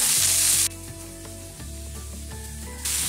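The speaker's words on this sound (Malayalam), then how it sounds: "ഉപ്പ് ചേർക്കുമ്പോഴത്തേക്കും ഈ സവാളയൊക്കെ പെട്ടെന്ന് തന്നെ വഴന്ന് കിട്ടും." Sliced onions with salt sauté in a pan for a Kerala mushroom masala. Brief bursts of loud, close sizzling open and close the clip, and tonal background music plays in between.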